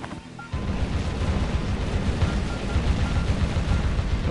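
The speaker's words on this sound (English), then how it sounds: "We're down to 5 helicopters." Helicopters and gunfire from the Metal Wolf Chaos video game erupt after a brief quieter moment into a loud, dense, continuous barrage of rumbling blasts and noise.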